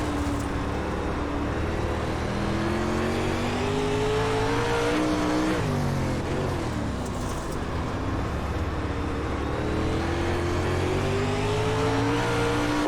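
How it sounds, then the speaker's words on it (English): A dirt late model race car in iRacing at Cedar Lake spins its tires with the engine roaring loud and close. The engine revs climb, dip briefly, then rise again without a break. "we're just spinning the tires"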